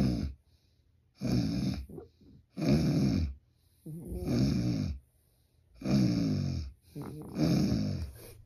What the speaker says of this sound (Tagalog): E paano kaya kung ako naman ang humilik-hilik dito?